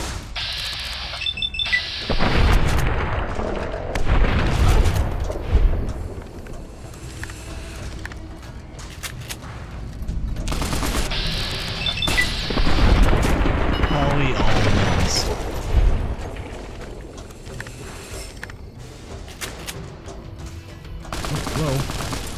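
Gunfire strikes the player in Fallout: New Vegas, a run of loud shots and booming impacts in two dense bursts, with someone talking over the action.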